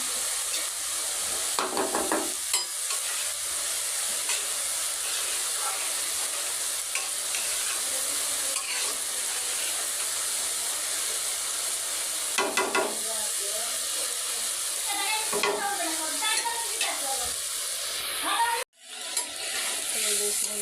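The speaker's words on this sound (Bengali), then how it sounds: "মাছ ভুনা করছি" Fish bhuna frying and being stirred with spices in a pan, a steady loud sizzle with scraping stir strokes throughout, a voice speaking over it at times.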